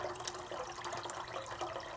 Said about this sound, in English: the rest of it I add maybe about 1 liter water